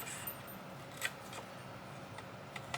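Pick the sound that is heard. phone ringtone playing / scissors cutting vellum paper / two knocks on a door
scissors cutting vellum paper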